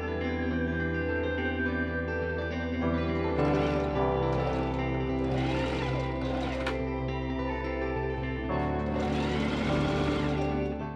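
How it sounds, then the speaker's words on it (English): Sewing machine stitching linen pockets closed runs continuously and steadily with a low motor hum, close up, its rhythmic stitching brightening in a few bursts, no talking. "I pin and machine sew my pockets closed."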